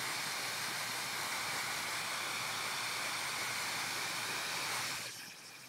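A hair dryer gives a steady, airy blowing hiss that runs continuously, fairly quiet and close, drying paint, then cuts off near the end.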